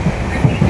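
A train rumbles steadily along the rails with low, rhythmic clacks from the wheels, close and continuous.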